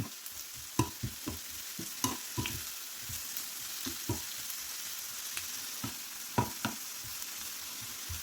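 Onion, tomato, crushed ginger-garlic and curry leaves sautéing in a pan for egg curry, a quiet steady sizzle with irregular spatula scrapes and taps spread through, close and faint, no talking.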